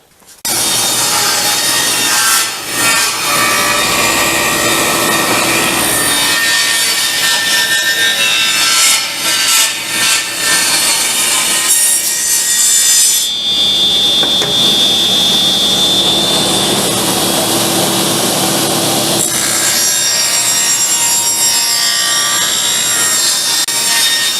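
A power saw cuts 45-degree wooden slats in a loud, continuous whine that shifts pitch as the blade bites, with a brief break midway as the piece is flipped before cutting resumes.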